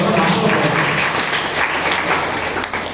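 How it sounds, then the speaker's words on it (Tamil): An audience at a college training program applauds a student, a dense, steady burst of many hands clapping at once and carrying on evenly throughout. "சகோதரிக்கு ஒரு கைத்தட்டல் கொடுங்க."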